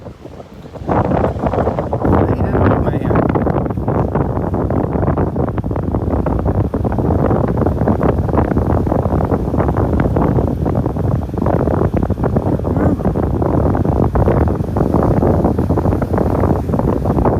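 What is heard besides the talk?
strong wind on the beach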